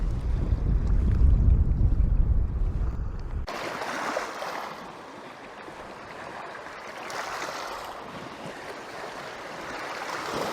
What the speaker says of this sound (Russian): А вот какие волны